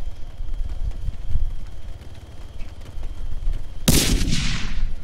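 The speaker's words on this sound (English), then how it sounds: "that is a flashbang" A flashbang grenade goes off in a police training video game, one sudden loud bang late on with a bright hissing ring that lingers and fades, after a steady low background rumble.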